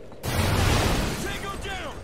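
A frag grenade goes off in the Call of Duty: Ghosts video game, a sudden loud blast with a rumbling, crackling tail amid gunfire, while voices call out.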